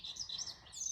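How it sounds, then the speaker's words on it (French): Birds chirp and tweet in short, high, bright phrases, a few quick notes overlapping in under a second, soft and somewhat distant with no voices. "c'est important d'écouter ces oiseaux"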